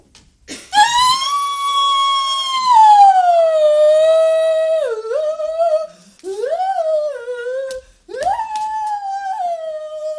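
A voice sings a sirens' song, a loud, long wavering wail that slides slowly downward, then breaks into two shorter rising and falling phrases.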